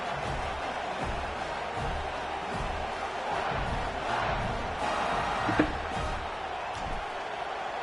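A large college football video game stadium crowd roars steadily throughout, a dense wash of cheering and noise with a sharper burst near the middle.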